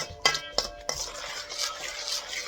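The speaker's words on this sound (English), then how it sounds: "So now I'll take my spoon, make sure I've got it all stirred in together" A spoon stirring a homemade banana pudding mixture of sweetened condensed milk and whipped cream, a few sharp clinks against the bowl followed by soft, close scraping and swishing.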